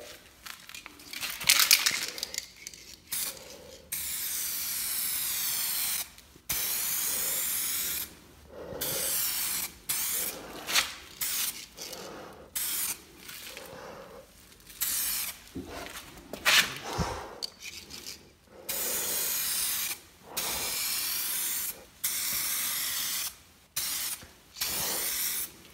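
Aerosol spray from a shaken can coating cloudy car headlights, heard as long steady hissing bursts separated by brief pauses, with short rattling and rubbing sounds between them, close and loud.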